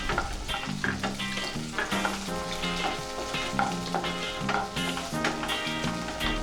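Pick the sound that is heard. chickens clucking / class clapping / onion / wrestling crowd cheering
onion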